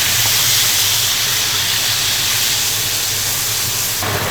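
Water poured into a hot wok of fried chili bean paste and pickled chilies for a Chongqing grilled fish sauce, raising a loud, continuous steamy hiss that barely wavers.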